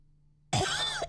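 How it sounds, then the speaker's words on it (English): A woman gives a single sharp cough, close and loud, after drinking soda while trying to burp, starting abruptly after a moment of near silence. "She didn't burp at all. She just coughed in your face."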